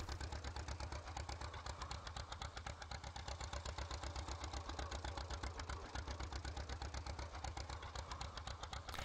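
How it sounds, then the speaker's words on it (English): A tractor engine in a farming video game drives slowly, a steady low chugging drone with a fast regular pulse that stays even and moderately quiet throughout, with no talking. "this tractor drives, normally this tractor doesn't drive this slow."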